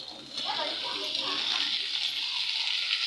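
Chopped snake gourd and green chilies sauté in oil in a pan, giving a steady close hissing sizzle that grows slightly louder as the vegetables are stirred.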